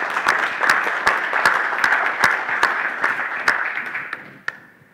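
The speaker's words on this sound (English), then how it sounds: "give yourselves an applause" Community members at a panel Q&A event applaud themselves in a steady, full round of clapping that thins out and fades near the end.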